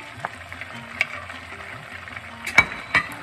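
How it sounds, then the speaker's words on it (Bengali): Fried eggplant going into a hot pan of oil for a Bengali shukto, a soft sizzle running steadily beneath a few light clinks and stirring knocks, close by with no talk. "এখন বেগুন ভাজাটা দিয়ে দিচ্ছি"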